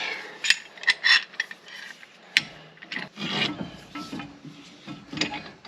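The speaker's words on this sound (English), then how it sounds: "I'm just compressing the caliper a little bit" Compressing a car brake caliper during a brake job after a wheel came loose: close, irregular scraping, rubbing and clicking metal sounds with rasping bursts, played out alone and fairly quiet.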